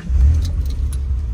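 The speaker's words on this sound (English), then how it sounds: "Let me start the car." A 1999 Mitsubishi 3000GT with a five-speed manual turns over and catches, a short loud low rumble that swells then settles into a running idle.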